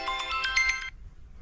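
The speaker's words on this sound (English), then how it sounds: "Here's my phone ringing." A mobile phone rings with a quick melodic ringtone pattern, moderately loud and close, cutting off abruptly after under a second, leaving faint low background rumble.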